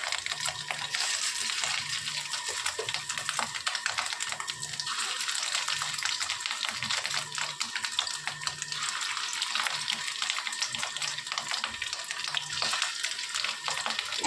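Small fish roe fritters sizzling in hot oil in a pan, a steady broadband hiss with bubbling crackle running continuously throughout, fairly close and even in level.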